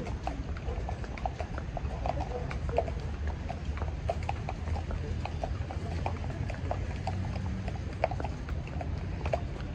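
Steady clip-clop of horse hooves on hard ground during a horseback ride in Baguio, an even walking rhythm over a low rumble of background noise, no talking.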